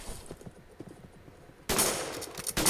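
Gunfire in the Roblox western game Westbound: a sudden loud burst of rapid shots erupts partway through, following quieter clip-clopping hooves, and continues densely to the end.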